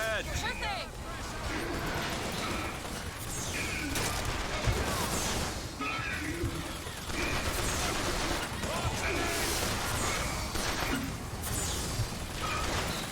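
Ongoing firefight in Bioshock Infinite: scattered gunshots, clanks and crashes keep going steadily at mid distance beneath a person talking.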